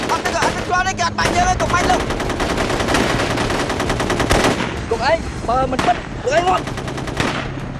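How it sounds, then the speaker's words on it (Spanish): Sustained automatic gunfire crackles through a staged ambush, rapid bursts layered over a dense battle din, with shouted voices breaking in now and then. "¡Fuego! ¡Muévanse, muévanse! No disparen, no disparen. ¡Dejen de disparar!"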